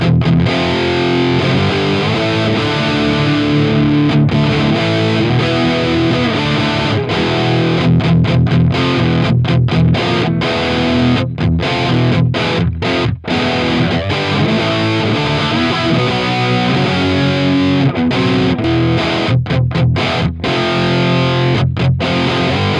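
Heavily distorted, high-gain electric guitar through a Neural DSP Archetype Nolly Kraken amp plays a dense, loud, continuous riff, with brief choppy stops and palm-muted gaps throughout, and no talking.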